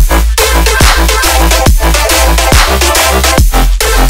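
A future riddim lead, a mono layer and a stereo layer played together, grinds loud and dense in a steady rhythmic pattern with repeated downward sweeps, alone with no voices.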